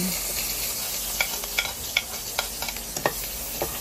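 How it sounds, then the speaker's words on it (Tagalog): Garlic sautés in a pan with a steady hiss of frying, marked by repeated clicks and scrapes as it is stirred, close and without talk. "magisa na tayo ng bawang"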